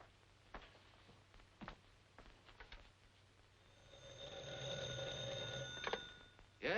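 An old telephone bell rings in a steady sustained trill indoors, fairly faint and starting after a few scattered footsteps and clunks, then cut off by a sharp knock.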